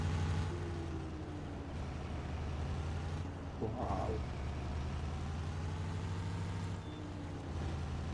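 Modded Fiat 682 truck engine in a driving game, idling low and rumbling after the accelerator is released, with steady engine drone throughout and a brief hiss partway through.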